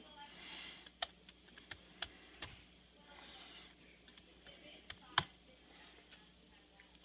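Numbers are tapped into a calculator, producing sparse, faint plastic key clicks at irregular intervals in a quiet room.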